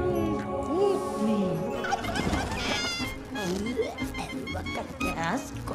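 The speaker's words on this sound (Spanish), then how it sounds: "usted será guiada por el gran guajolote sagrado, Picatucutli." A sacred turkey in an animated Mexican comedy film gobbles in rapid warbling bursts, close and prominent, mixed with other voices and soundtrack.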